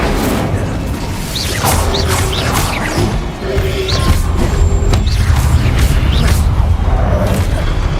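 Hogwarts Legacy Incendio fire spell blasts out with loud whooshing bursts and crashing impacts, layered over dense, continuous game combat noise with no pause.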